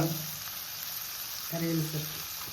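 Onions and green chili fry in a pan, a steady close sizzle throughout with faint stirring, as a voice speaks briefly over it.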